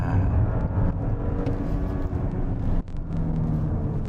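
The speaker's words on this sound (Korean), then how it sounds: "코너링 한번 해보겠습니다. 속도를 쭉 끌어올리고요." An Audi A7 55 TFSI quattro accelerates hard through a corner, giving a steady loud engine and road rumble with a brief dip near the end before the drone resumes.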